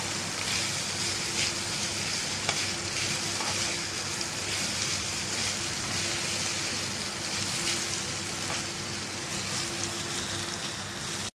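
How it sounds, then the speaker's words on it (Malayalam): Grated coconut is stirred and fried in oil, giving a steady close hiss of sizzling with faint scraping clicks throughout and no voices. "നമുക്ക് ഇളക്കി വറുത്തെടുക്കാം"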